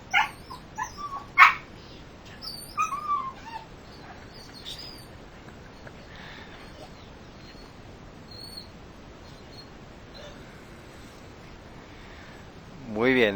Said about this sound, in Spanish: muy bien, ese es el cariño de un perrito por el amo